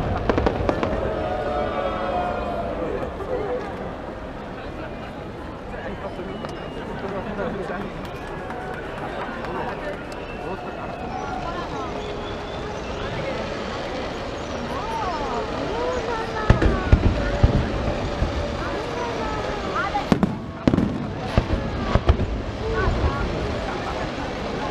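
Fireworks bursting over the lagoon at the Redentore festival in Venice, with a steady crackle of rockets and sharp loud booms standing out later, while a crowd chatters throughout.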